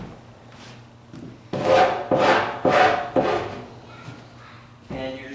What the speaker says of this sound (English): you're just going to file the bulk of your excess banding off, like so